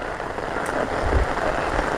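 Steady rain pouring down on farmland in Banaskantha, a dense continuous hiss of drops hitting the ground and surfaces nearby, with no voices.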